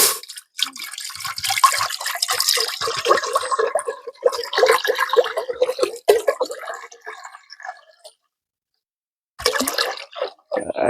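Water poured into a cooking pot while making Jamaican gungo peas soup, an irregular splashing and trickling that stops briefly and then resumes, close and fairly loud.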